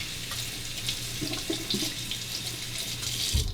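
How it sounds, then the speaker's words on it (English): A razor rinsed under a running tap during a shave, steady close splashing water from the faucet with small clinks and gurgles, no talk. "Let's rinse that."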